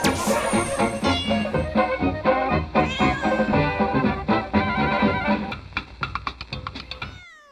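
A comedic cartoon theme song for a tinfoil hat cat, with sung or played cat meows woven into busy music, loud and rhythmic before ending in short stabs.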